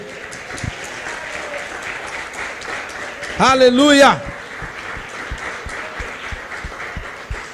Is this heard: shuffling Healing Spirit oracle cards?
no